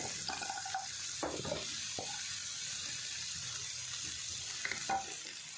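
Water hits a hot pan of frying Malabar spinach stems with tomato and turmeric, making a steady hiss with sizzling and a few scattered utensil clinks, no voices.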